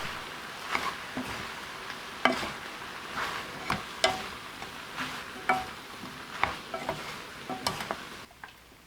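Squid stir-fry with chili flakes, green onion and oligosaccharide syrup tossed in a pan: a soft sizzle under repeated sharp clacks and scrapes of a spatula, fairly quiet and close.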